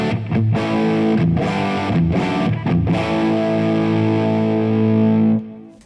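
Electric guitar with a Yamaha FX500 effects unit blended into the dry signal in mono, strummed chords with a few sharp picked attacks, then a long loud sustained ring before a quick fade.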